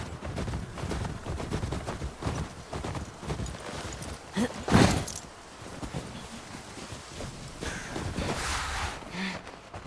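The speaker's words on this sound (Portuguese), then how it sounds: "Aqui é legal que você anda a cavalo." Horse hooves clip-clop in a steady, rhythmic stride while riding in the video game The Last of Us Part II, close and fairly loud throughout, with a brief sharper burst partway and faint background game sounds.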